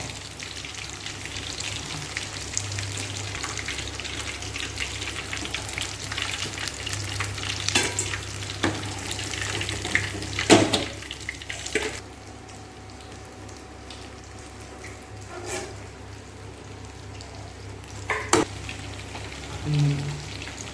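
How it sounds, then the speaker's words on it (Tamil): Chicken 65 pieces fry in hot oil. A continuous crackling sizzle, heavier in the first half and quieter later, is broken by occasional sharp utensil clinks close by. "இப்போ வந்து ஃபுல்லாக ஃப்ரை ஆகிடுச்சு"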